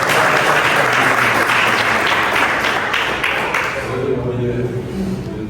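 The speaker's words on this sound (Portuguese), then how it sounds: "vamos receber o pastor Jean com palmas para Jesus" Church congregation clapping loudly for an arriving pastor during a worship service, dense sustained applause that fades toward the end as a voice speaks beneath it.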